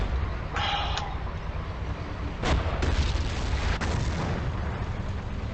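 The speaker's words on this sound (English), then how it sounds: "Grenades from behind me." Grenade blasts going off behind the player in the Battlefield Axis campaign, heard as a few dull booms around the middle over a steady rumble of battle noise.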